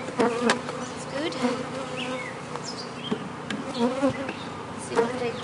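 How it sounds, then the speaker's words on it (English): Honey bees buzzing steadily up close, a dense humming drone with individual bees whining past now and then. "we've got some bees in here."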